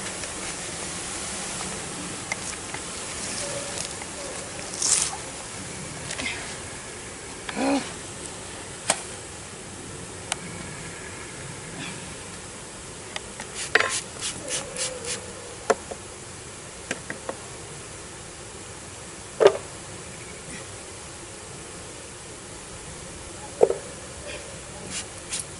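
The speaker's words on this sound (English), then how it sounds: "That's a lot of bees." A beehive being set up by a beginner beekeeper, with a steady close drone of many bees buzzing throughout, dotted with occasional brief clicks and taps.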